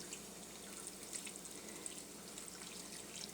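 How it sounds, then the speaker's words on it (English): Liquid seasoning poured from Pyrex cups over vegetables in a crock pot, a soft continuous trickling and splashing pour at close range, steady and fairly quiet with no talk. "I'm going to pour that over the top."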